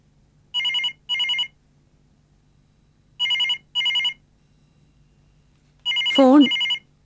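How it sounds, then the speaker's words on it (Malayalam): Telephone bell ringing in a home, three pairs of electronic double rings spaced evenly apart, loud and close, with a short vocal exclamation over the last pair. "ഫോൺ."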